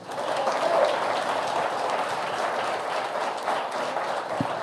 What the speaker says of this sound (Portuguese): Você pode aplaudir o Pai?